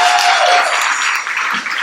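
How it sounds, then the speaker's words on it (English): Concert audience applauding loudly at the close of the Stained Glass Concert Series Volume 3, a dense steady wash of clapping that fades slightly toward the end. "Give yourselves a round of applause"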